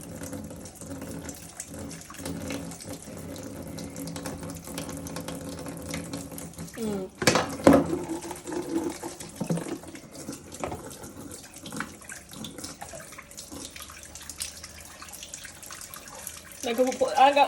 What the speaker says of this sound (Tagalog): Tapos i-wash mo lang ng water.